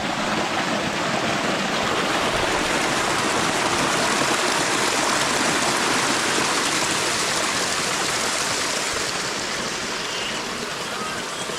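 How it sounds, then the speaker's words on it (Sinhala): Small stream flowing past a tea estate near Hawagala, a constant close rushing and gurgling of water, loud and unbroken throughout. "අපිට චූටි ඇල පාරක් වගේ එකක් හම්බුණා"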